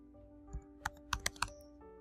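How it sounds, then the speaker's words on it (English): A computer keyboard is tapped to enter a search, with about five crisp, close keystrokes clustered in quick succession over a faint steady hum. "in the search bar I'm going to type in Theo Fleury"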